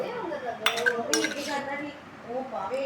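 A couple of sharp metallic clinks and scrapes of a utensil in a metal pot of pumpkin curry ring out while a person keeps talking.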